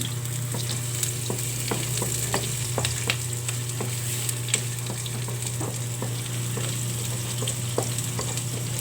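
Minced garlic and onion sauté steadily in a hot pan for ginisang monggo, a continuous close sizzle broken by repeated clicks and scrapes of stirring, with a constant low hum underneath and no talking.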